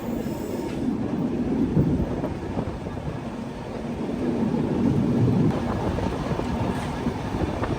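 Superfast express train between Visakhapatnam and Gandhidham running at steady cruising speed, a continuous low rumble of wheels and carriage noise heard from on board, fairly loud and unbroken, with no talking.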